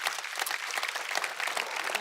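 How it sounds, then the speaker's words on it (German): A church congregation claps steadily and fairly loudly for the whole stretch, a dense continuous patter of many hands with no voices over it. "Lass uns Gott für das Applaus geben."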